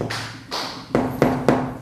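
Ceramic floor tiles being tapped into place while laying a bathroom floor: five sharp, close knocks at uneven intervals, each a quick thud with a brief ring, heard alone.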